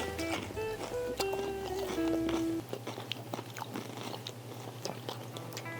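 Crunchy biting and chewing into a fried chicken leg up close, a few brittle crunches over faint background music that cuts out partway.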